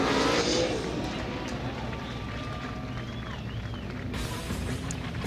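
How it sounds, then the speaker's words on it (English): Drift car engines at a night drifting competition in Texas, a distant, steady roar with rising and falling revs and crowd noise, under continuous commentary. "we're seeing a lot of excellent drifting here tonight"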